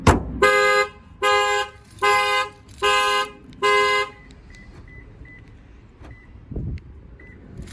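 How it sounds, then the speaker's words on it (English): A Toyota 4Runner alarm, triggered by an impact sensor, blares in five loud, evenly spaced horn blasts, then falls silent, leaving faint beeps and a low thump nearby. "I'll hit the keyhole and you'll see the alarm's going to go off."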